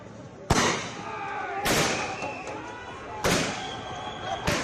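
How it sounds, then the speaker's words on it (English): Loud sharp tear gas shell bursts erupt one after another, four in quick succession, over a roaring protest crowd and the noise of a tense Kolkata street scene. "One more of the tear shell is being burst to push the crowd back."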